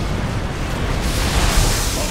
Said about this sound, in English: The lava surge is back, viewers. Let's watch as the low ground is engulfed in molten rock and fire.